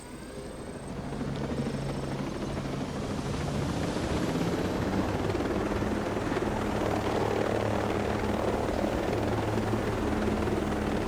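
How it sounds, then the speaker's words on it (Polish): Helicopter in the Ghost Recon Breakpoint video game flying steadily with a loud, continuous rotor and engine roar that holds close and unbroken throughout, with no talk. "Wziąłem sobie ten śmigłowiec"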